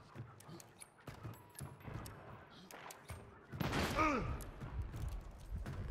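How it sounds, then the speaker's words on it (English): Gunfire in the Hunt: Showdown video game, aimed at shooting out windows, comes as a string of sharp, separate shots with a denser burst midway, heard under people talking. "I'm gonna try and shoot out some windows here."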